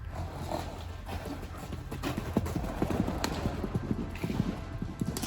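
A Standardbred horse canters, its hooves clip-clopping in a quick, uneven rhythm of muffled thuds against a faint outdoor background.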